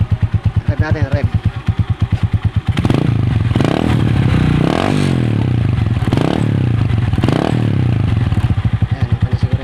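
A DL 150 motorcycle with a welded Apido exhaust pipe revs hard and close, its steady running note swelling into several loud, rising throttle blips in a row before dropping back to a quicker idle beat.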